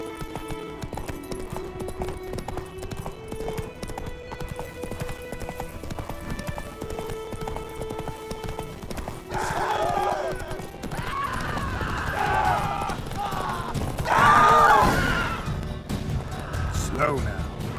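Hooves of the horse Roach clip-clop steadily through the game world of The Witcher 3, a close rhythmic trot running under music and game voices that grow louder partway through.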